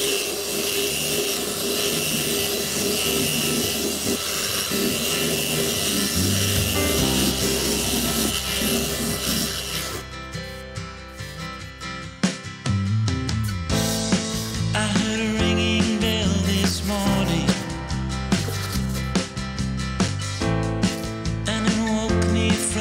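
Abrasive sanding scrapes steadily along the wooden edges of a kitchen cabinet being finished for a converted van, with a continuous rubbing hiss; music plays prominently in the second half.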